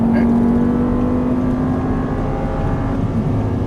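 An Audi R8 V10 race car on a track, engine droning steadily under light throttle from inside the cabin, a loud continuous tone that sags slightly in pitch toward the end.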